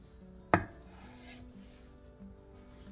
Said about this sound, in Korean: 두부를 2에서 3cm 정도 두께로 길게 잘라주세요